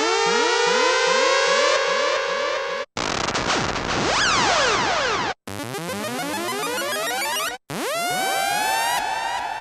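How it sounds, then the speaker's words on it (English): Four handmade reggae sound-system siren effects from a sample pack, one after another, each a loud continuous electronic wail with rising and falling sweeping pitches and brief silences between them. "Four sirens handcrafted by me."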